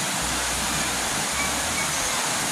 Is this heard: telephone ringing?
no